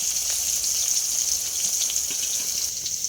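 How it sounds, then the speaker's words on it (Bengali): Bitter gourd fries in plenty of hot oil, with a steady hiss and a fine crackle that carries evenly at moderate volume, and no voices over it. "কিন্তু এখানে ভেজে ফেলছি একটা উচ্ছে"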